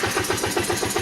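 A 2010 Kawasaki Teryx 750 V-twin engine firing up after a valve adjustment, a brief steady rhythmic chugging of quick even pulses, close and alone with no throttle.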